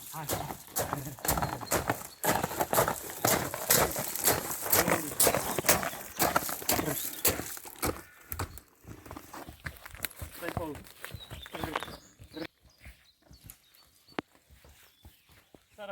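A stallion and a mare: hooves clop rapidly and steadily, then slow and thin out, with occasional snorts; people talk over the busy, close hoofbeats.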